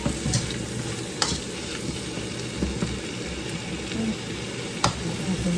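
Chinese ribs cooking in a pan with garlic give off a steady, close sizzle and crackle, with a few sharp clicks of utensils stirring through it.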